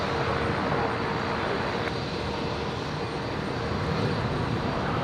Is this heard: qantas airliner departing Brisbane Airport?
yes